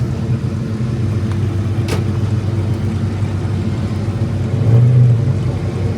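Ford Foxbody cars cruise past in a parade around the Carlisle grounds, a steady low engine rumble close by, swelling as one car's exhaust grows louder near the end, with no talking.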